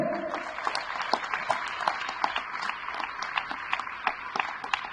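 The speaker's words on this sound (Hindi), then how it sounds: "आप सबके लिए तालियां कम है भाई" Crowd applause at a public meeting addressed by a chief minister, a moderate sustained patter of many hands with individual claps standing out, accompanied by faint voices in the background.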